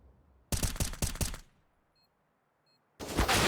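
Bursts of automatic rifle fire from a CS:GO match, a rapid rattling volley of shots followed by a pause and then another loud burst of gunfire at the end.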